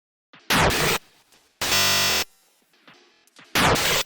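A drum sample with its transients pulled down, run through a glitch preset and re-recorded, gives three harsh, buzzy bursts about half a second each, separated by quieter stuttering fragments, with no talking.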